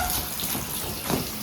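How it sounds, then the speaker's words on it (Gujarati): Water running from a tap, a steady rushing flow that stays loud and constant throughout, alone with no speech. "પાણી આવી છે હું પાણી"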